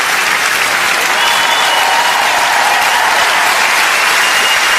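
Loud, sustained applause from a large theatre audience at a comedy show, a dense steady roar of clapping that holds at full strength throughout.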